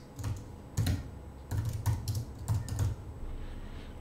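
Keys clatter on a computer keyboard as a marker name is typed into video editing software, short bursts of close taps in an uneven rhythm, with no voices.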